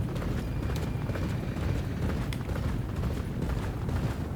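Horses galloping in a race in the Champion Jockey video game, a steady dense drumming of hooves with rumbling low thump throughout, loud and continuous with no talk over it.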